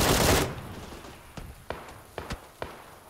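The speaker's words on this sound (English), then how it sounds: "So, someone else is shooting in them now?" Shooter-game gunfire heard as a loud initial burst that quickly fades, followed by four or five sparse, distant single shots spaced irregularly against faint background noise, with no speech.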